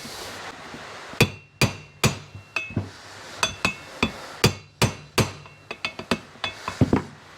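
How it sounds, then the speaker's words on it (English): A hammer gently taps a universal joint on the tail shaft of a VR Commodore, giving a quick series of about fifteen sharp, ringing metallic knocks at an uneven rhythm, close and clear with no talking. "we'll give it a tap with the hammer on each side, just a gentle tap"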